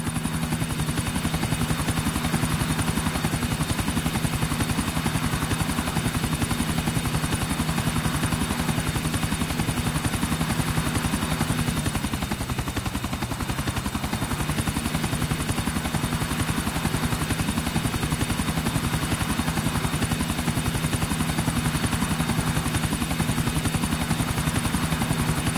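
A helicopter in Grand Theft Auto IV, a loud, continuous rotor thump and turbine whine holding steady for the whole stretch, with a brief dip in intensity around the middle before returning to full strength.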